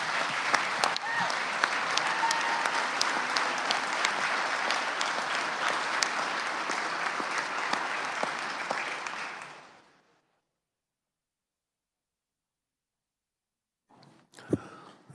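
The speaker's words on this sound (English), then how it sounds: "Please join me in a round of applause for these fine young people." Applause rises in the Kansas Senate chamber as a crowd claps steadily for about ten seconds. The clapping fades, a brief silence follows, and a short faint noise comes at the end.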